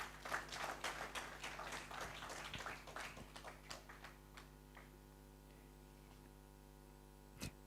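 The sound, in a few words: audience applause for Norbert Mao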